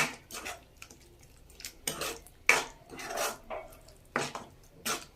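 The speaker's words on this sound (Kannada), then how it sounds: "ಇವಾಗ ಮಶ್ರೂಮ್ನ ಸೇರಿಸ್ಕೊಳ್ಳೋದು. ತೊಳೆದು ಕಟ್ ಮಾಡಿರೋ ಮಶ್ರೂಮ್" Washed, cut mushrooms are added to a pan of cooked masala and stirred. A metal spoon scrapes and clinks against the pan in repeated irregular strokes with soft rubbing in between, close by, with no talking.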